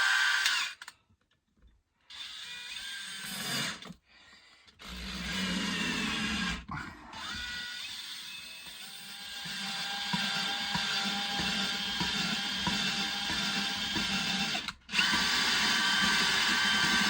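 A power drill whirs steadily for a long stretch after a few brief stops and starts, loud and close, during a Triumph 1300 FWD engine rebuild.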